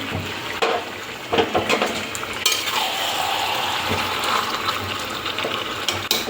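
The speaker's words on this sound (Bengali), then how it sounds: "তো আমি আলুগুলো যে ভেজে রেখেছিলাম, সেই আলুগুলো আমি ওর মধ্যে অ্যাড করে দেবো।" Fried potatoes are tipped into chicken curry in a pan and stirred, with loud continuous sizzling, repeated scrapes and clinks of a spoon against the metal, and no talking.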